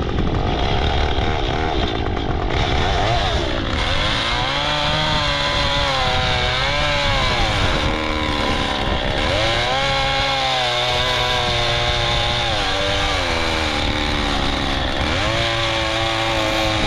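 A chainsaw cuts wood for a fence, its engine loud and close, revving and bogging repeatedly as the chain bites through the timber over a long continuous cut.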